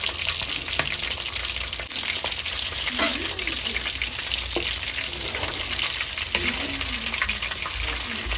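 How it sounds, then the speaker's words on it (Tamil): Quail deep-frying in hot oil, a loud continuous bubbling sizzle up close, with occasional faint clinks and a voice murmuring briefly underneath. "அது வரைக்கும் நம்ம பொறுமையாக டீப்பாக வந்து இதை வந்து ஃப்ரை பண்ணி எடுக்க போகிறோம்."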